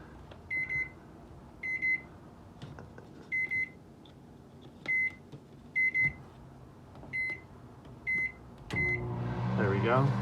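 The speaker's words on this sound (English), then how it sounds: "Standard 110 microwave." A standard 110-volt microwave in a 2021 Keystone Hideout 175BH travel trailer gives a series of short, bright beeps at a fairly even pace, then starts running with a rising hum and whir, close by.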